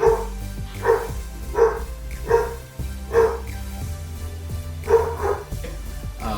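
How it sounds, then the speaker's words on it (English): Dogs bark in a steady series of about eight woofs, moderately close, over a low droning hum. "Besides the barking of dogs."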